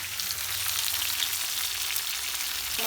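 Onion, ginger and garlic sizzle in hot oil for a chicken curry, a steady, close hiss of frying with faint stirring and no voices.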